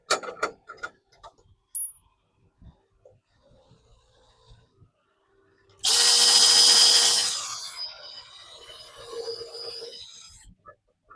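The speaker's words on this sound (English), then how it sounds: "Drill that hole." A power drill bores a hole for a bracket on a sagging wooden fence gate, a loud whirring burst of about two seconds that then trails off into quieter grinding, after a few scattered taps and clicks.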